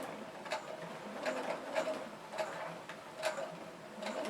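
Small domestic sewing machine stitching a zipper into a bulky cross body bag, producing soft, close, rhythmic mechanical ticking in slow, even bursts at a moderate level.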